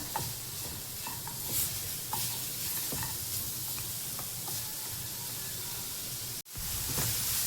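Jaggery being stirred and roasted in a pan for a Konkani sweet, with a steady close sizzle and scraping stirs throughout, briefly cut off near the end before resuming.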